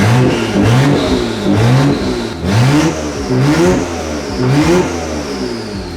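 A Nissan Stagea 260RS engine running with no exhaust fitted revs hard in repeated rising and falling sweeps, loud and close, with a raw, harsh roar throughout.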